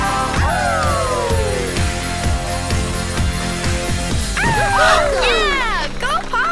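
Cartoon puppies from a Paw Patrol video game howl and yip in rising and falling squeals, with a louder cluster of yelps near the end, mixed under a singing voice and rhythmic music.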